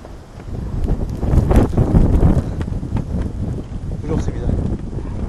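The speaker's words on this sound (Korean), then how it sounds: "밑에도 바람이 어마어마한데" Strong gusting wind on Hallasan mountain on Jeju Island, a loud, continuous roar buffeting the microphone that swells and eases without pause.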